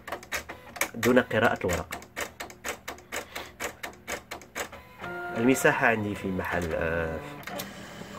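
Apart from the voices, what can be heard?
Silhouette Cameo 3 cutting machine cutting cardstock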